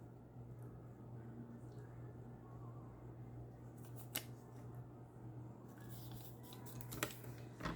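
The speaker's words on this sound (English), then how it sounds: "You might as well just cut up this last one while we're here." Scissors snip through material for a craft piece, faint crisp cuts that cluster near the end over a steady low hum in a quiet room, with no voices.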